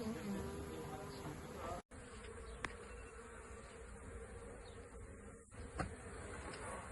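A dense, steady buzzing of a swarm of honey bees fills the air, continuous and close, with a couple of brief dropouts.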